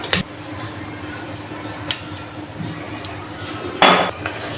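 Metal utensils clink and scrape against a pan while crispy soyabean chilli is mixed with red chilli, tomato and dark soy sauces, with sparse clatters and a louder clatter near the end.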